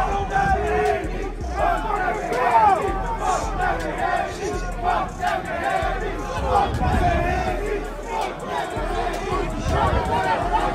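An arena crowd chants loudly before the Devin Haney vs Ryan Garcia boxing fight. The rhythmic, swelling massed voices fill the space, with a dense, continuous roar of crowd noise around them.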